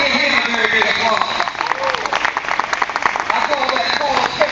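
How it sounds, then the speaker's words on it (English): Audience at a Barbara Jordan High School reunion breaking into steady applause, a dense wash of clapping that carries throughout, with a voice speaking over it. "Give him a very big applause."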